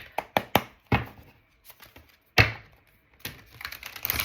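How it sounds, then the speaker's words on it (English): A large stack of tarot cards is shuffled up close, giving a run of crisp taps and slaps with short gaps, then a softer riffling rustle at the end. "You want me to pull from this large stack of cards. So we're going to shuffle these up."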